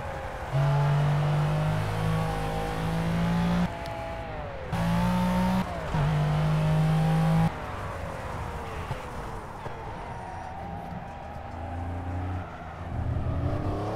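A race car engine in the racing game Project Cars screams through repeated hard accelerations, with sharp gear-shift drops between the pulls, then eases off to a lower drone before climbing again, loud and alone.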